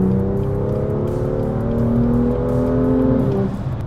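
BMW M2 accelerating hard on a test drive, its engine note climbing steadily as rising tonal harmonics over a loud, continuous rumble, close and alone before easing off slightly near the end.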